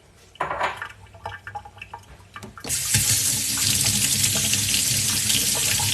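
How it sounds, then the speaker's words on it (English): A tomato rinsed under a running kitchen tap: faint handling clatter at first, then the faucet opens into a loud, steady hiss of water splashing in the sink. "Let me wash my tomato too."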